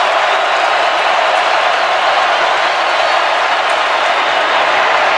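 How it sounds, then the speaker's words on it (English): A packed college football stadium crowd at Georgia versus Auburn roars on third down, a dense, sustained wall of noise with no break, loud and close. "And the crowd is wound right now on third down and seven."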